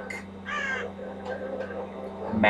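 Crows caw several times in the Telltale Game of Thrones video game, harsh and fairly close, in uneven calls over a low steady background hum.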